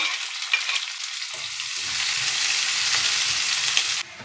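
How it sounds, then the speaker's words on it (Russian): Chopped onion hisses and crackles as it fries in a pan for stewed cabbage with rice, a steady close sizzle that swells after a few soft stirring clicks, with no talking. "Сейчас мы его закинем обжариваться."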